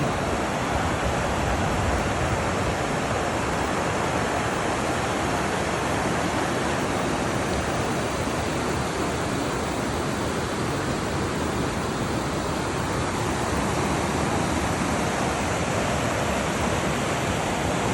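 River water rushing over rock shoals at Corn Mill Shoals in Dupont State Forest, a dense, steady roar lasting the whole stretch with no pauses, loud and close, and no voices heard.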